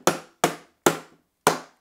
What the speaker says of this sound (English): It hammers stuff. Hammers things.